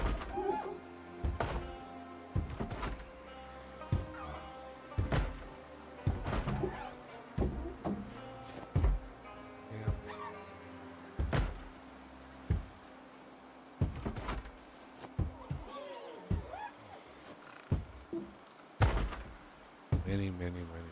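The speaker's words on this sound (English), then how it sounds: "The thumping sound increases my strength." Repeated heavy thumps on doors in Project Zomboid land at a steady, evenly spaced rhythm for about twenty seconds, loud and close, each with a short knock-like tail.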